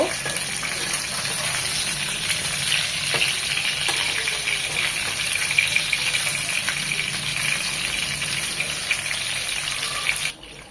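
Rohu fish pieces lightly frying in oil in a pan, a steady sizzle with faint crackles running continuously before cutting off abruptly near the end.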